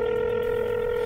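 Phone dialing in the Roblox Brookhaven game: a steady electronic dial tone, with a faint click at the end, heard alone.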